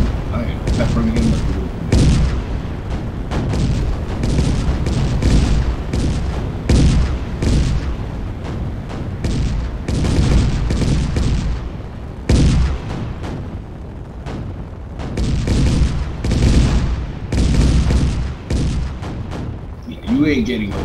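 Rapid spaceship cannon fire in a space combat game, steady bursts of booming shots running almost the whole time, with players talking over the gunfire.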